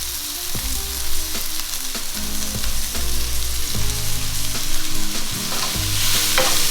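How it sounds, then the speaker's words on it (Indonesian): Ingredients for a sirloin steak dish are sautéed in a pan, seasoned with salt and white pepper, sizzling steadily with repeated scrapes and clacks from stirring, loud and close, with no talk. "Kita saute sebentar sampai dia wangi."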